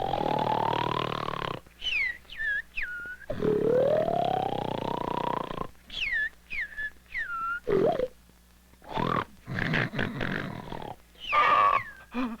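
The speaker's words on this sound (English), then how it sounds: "I can't stand that snoring any longer." Cartoon snoring in exaggerated comic style, long wheezing inhales alternating with whistling, swooping exhales and sputters, repeated in a loose rhythm with short pauses between breaths, loud and close.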